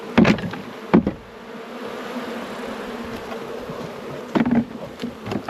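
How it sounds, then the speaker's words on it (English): Honey bees drone in a dense, continuous buzz as they are shaken out of a hive frame, with a few sharp knocks from the frame against the box, close and loud. "So I'm gonna shake the end of these bees out into here,"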